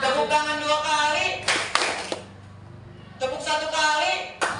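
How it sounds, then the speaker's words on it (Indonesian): Hands clap in bursts during a clapping game, with sharp slaps standing out against an echoing group of voices talking and responding around them. "Tepuk tangan 2 kali."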